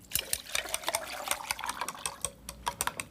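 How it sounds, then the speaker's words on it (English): Water poured into a beaker of finely divided powder gives a close, crackly run of rapid wet clicks and small splashes that continues steadily without pause. "we'll pour the water in"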